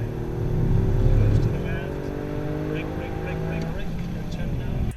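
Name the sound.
Toyota GR Yaris three-cylinder engine exhaust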